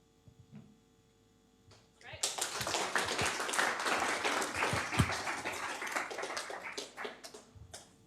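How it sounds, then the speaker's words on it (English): An audience at a Green Sprint startup pitch night breaks into applause after a quiet opening with a few stray claps, swelling into loud, dense clapping that holds for several seconds and then tapers off, with voices mixed in. "We're going to give you another round of applause."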